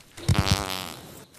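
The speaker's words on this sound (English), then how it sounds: "Who's farting? That ain't me." A cartoonish fart sound effect plays in an indie video game: three quick low blasts, then a longer trailing rumble lasting about a second, loud and close with no talk over it.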